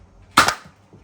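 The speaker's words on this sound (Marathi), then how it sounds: "दुसरी गोळी झाली." A single sharp gunshot-like bang, loud and close, with a quick decaying tail in a quiet setting.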